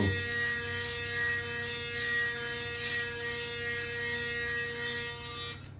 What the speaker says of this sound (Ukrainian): Вмикаємо електробритву і починаємо голити